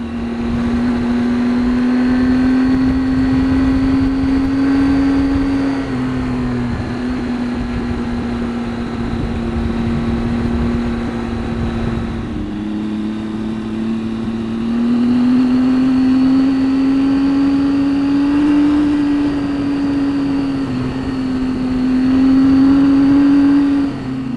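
Triumph Tiger 800 XCx motorcycle riding a well-maintained gravel road, its engine droning steadily and loudly throughout with small shifts in pitch, no voices.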